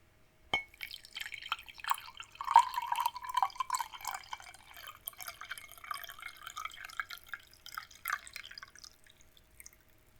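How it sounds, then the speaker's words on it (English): Hot water pours steadily with trickling, splashing tones for several seconds, fairly quiet and close, with a few clinks and drips as the flow tapers off. "And then I'm going to pour in some water."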